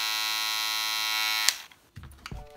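A Kemei electric foil shaver runs with a steady, loud buzzing hum that cuts off abruptly partway through, leaving a few faint clicks and handling noises.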